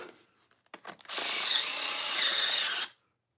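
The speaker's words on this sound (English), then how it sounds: "I got to get this goofy Ryobi tool to open up these damn packages." A battery-powered Ryobi power tool whirs steadily for about two seconds, loud and close, cutting into packages after a few brief knocks and handling noises.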